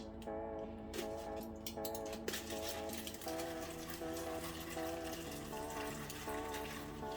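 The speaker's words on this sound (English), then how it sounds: "I'm pouring water from the side." Water is poured in from the side of a pot while cooking Nigerian moi moi wrapped in aluminum foil, a soft continuous trickle and splash heard faintly under a person talking.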